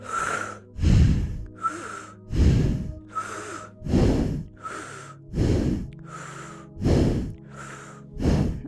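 Rhythmic breathing in Kundalini yoga with the navel pumping: about eight strong, evenly spaced breath bursts, close and loud, each a forceful rushing exhale-inhale with no talking.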